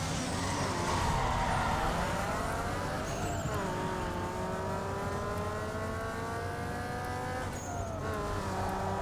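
Racing car engine roaring at full throttle in Need for Speed Underground 2, loud and continuous, with harmonic pitch climbing through gear shifts and dropping at each change, over steady road and tire noise, no talking.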